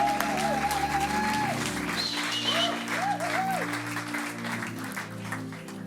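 Applause from a church congregation welcoming a woman's baptism, steady clapping throughout with a whistling tone and voices mixed in, a sustained organ-like hum beneath.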